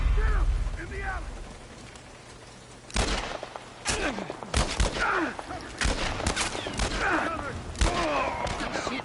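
Gunfire in The Last of Us, with sharp, loud shots arriving in irregular bursts over quieter ambience, and voices talking in between.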